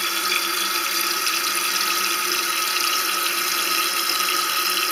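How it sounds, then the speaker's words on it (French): A toilet cistern refills after a float-valve leak adjustment, giving a steady, close hiss of rushing water that holds at an even level throughout with no voices. "on laisse charger l'eau dans votre cuvette, dans votre réservoir plutôt"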